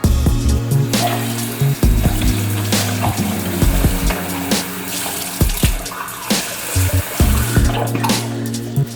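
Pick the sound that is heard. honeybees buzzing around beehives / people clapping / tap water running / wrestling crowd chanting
tap water running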